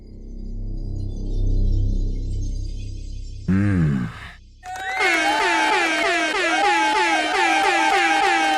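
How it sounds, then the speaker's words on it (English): Several air horns blare one after another: a low droning tone, a quick rising wail, then a dense, loud chorus of overlapping horn blasts that fills the last few seconds. "how did you fit so many air horns there at the end?"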